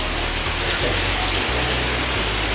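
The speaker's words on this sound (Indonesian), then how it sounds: "Kebetulan hari ini hujan." Rain falls in a steady, dense hiss on surfaces near a motorcycle workshop, continuous and close, with a low hum running underneath.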